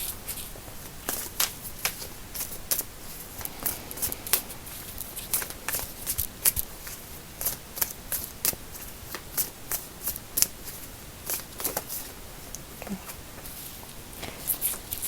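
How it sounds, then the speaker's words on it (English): A deck of tarot cards is shuffled by hand, producing close, soft riffling and flicking bursts in a steady, irregular patter that keeps going throughout, with no talking over it. "I'm gonna pull one last tarot card."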